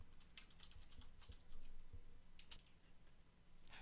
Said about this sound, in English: I'm just going to type in some stuff here